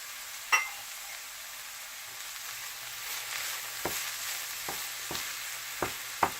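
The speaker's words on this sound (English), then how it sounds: "I'm going to saute these for a couple minutes" Mushrooms and carrots sauté in a pan with a soft, steady sizzle close by, broken now and then by light clicks and taps of a utensil stirring the pan.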